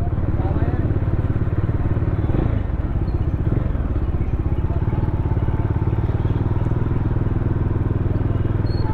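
A Bajaj Dominar 400 BS6 motorcycle engine running steadily during a city ride, with a continuous low throbbing drone and occasional clatter and thumps from the road.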